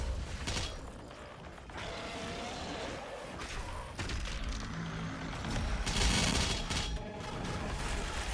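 The BFG 10,000 fires in the shooter game Doom Eternal, a long, heavy mechanical charge-up of grinding, creaking machinery and rumbling bursts that swells louder toward the end, continuous and without talk.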